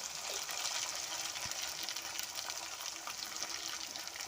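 Chopped onions sizzle in a hot oiled pan while palak paneer is cooked: a continuous, fairly soft hiss of frying, steady throughout with no talking.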